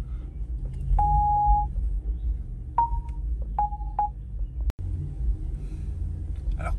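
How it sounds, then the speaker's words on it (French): A few electronic beeps from the parking sensors of a 2021 Porsche Taycan Cross Turismo Turbo driving off-road through tall grass, one long tone then shorter pulses, over a low rumble. "le son des radars qui bipent dans tous les sens"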